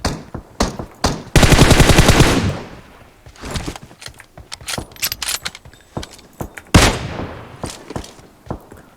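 Gunfire in the mobile battle game PUBG Mobile: loud, close bursts of rapid automatic fire mixed with scattered single shots and clacks, no talk heard.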